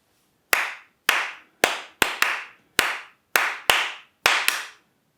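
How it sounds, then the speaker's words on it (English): Crisp hand claps in a Lindy Hop lesson, close and dry, tapping out a pushed swing rhythm of single and quick paired claps over about five seconds with silence between. "Let's clap it out."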